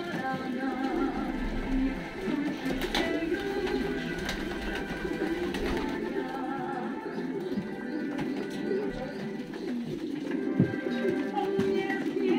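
Several racing pigeons coo softly and repeatedly over a busy background hum, their low throaty calls overlapping in a steady murmur.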